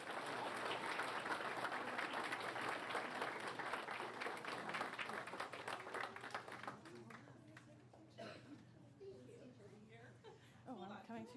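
A crowd at a board meeting claps in loud, sustained applause that tapers off after several seconds into scattered claps and murmuring voices.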